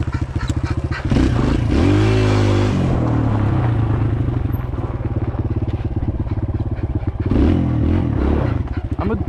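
A Kawasaki KLX 140L dirt bike's engine revs loud and close while being ridden, climbing and dropping in pitch as it accelerates, then settling into a steady buzzing drone.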